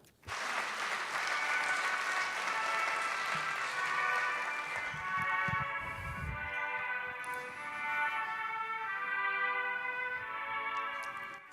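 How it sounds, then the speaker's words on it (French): An audience applauds slam poet Victor at an awards ceremony, a full, sustained burst of clapping that gradually thins as a voice begins speaking over it. "Merci d'applaudir Victor"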